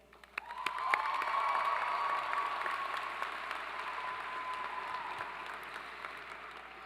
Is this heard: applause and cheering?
yes